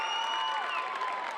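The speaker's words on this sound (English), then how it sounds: "Big cheer for Charlotte Now, Albert as she comes off" Crowd cheering and applause fill a gym at a girls volleyball state final, a steady, dense roar of many voices sustained throughout, with a few higher whistles or shouts riding on top.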